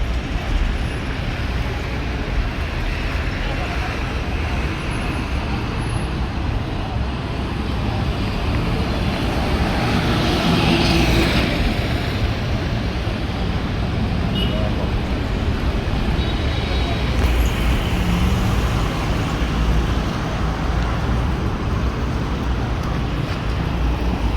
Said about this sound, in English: Crossing the pedestrian walk, going to catch a matatu home.